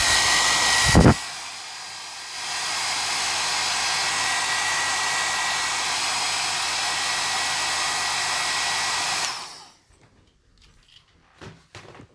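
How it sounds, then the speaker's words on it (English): A hairdryer dries paint on a 1/12-scale Bandai General Grievous model kit, starting with a click, then blowing as a loud, steady whoosh for about eight seconds before cutting off into near silence. "Okay, hairdryer incoming."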